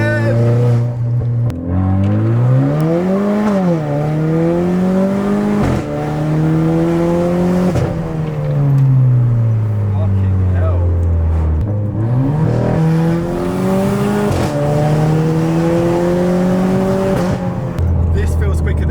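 A loud 250bhp Renault Clio RS engine revs up and down repeatedly, its pitch sweeping through several climbs and drops, heard from close by with no talking.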